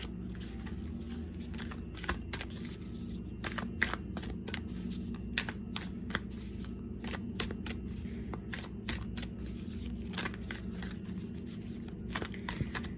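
Chakra tarot cards being shuffled by hand, a rapid series of crisp riffling flutters and soft slaps repeating close and fairly quiet over a faint room hum.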